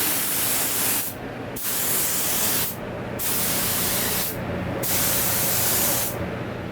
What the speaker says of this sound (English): let's go spray some sealer on this